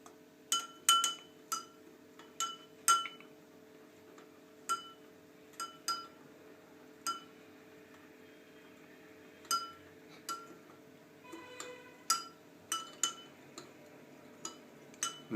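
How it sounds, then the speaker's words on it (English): A metal spoon stirs salt into a glass of water, clinking sharply against the glass in irregular taps spread across the whole stretch, quiet and close with no talk. "We'll stir it till the salt fully dissolves."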